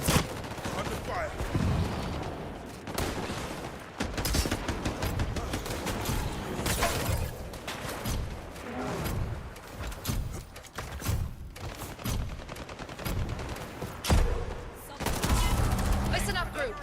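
Dense bursts of automatic and single gunfire fill a match of the video game Highguard, loud and continuous with brief lulls, while a voice talks over the shooting.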